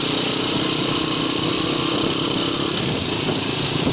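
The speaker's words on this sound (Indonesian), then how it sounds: "Kita tes mesinnya, kecepatannya gimana." A classic Honda C70 motorcycle engine runs steadily and loud throughout, a constant buzzing drone close by with no talk.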